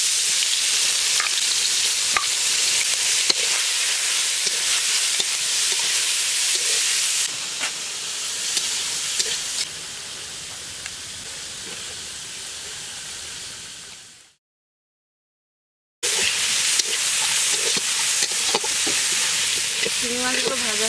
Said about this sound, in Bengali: এবারে চিংড়ি মাছগুলো ভেজে নিচ্ছি।